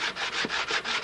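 Glue chips being scraped off the molding of a wooden Seafire model boat hull, heard as a close, rhythmic rasping in repeated strokes with no talk.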